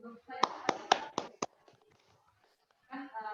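Children in a classroom clap together in a loose, uneven burst of about five sharp claps, close and fairly loud, followed by quiet and then an adult voice speaking.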